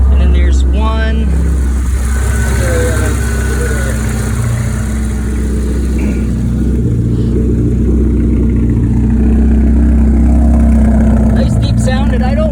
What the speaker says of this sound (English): Nice deep sounded idle that gets real loud and raspy up down.